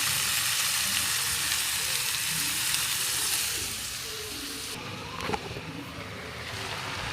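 Liver and mixed vegetables with onions, green chilies, cardamom and cinnamon sizzle in ghee in a pan, a steady close frying hiss that softens midway, with a single clink near the end.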